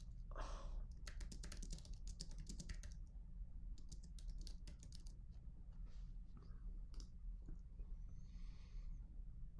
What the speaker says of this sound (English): Wait, let me type it out.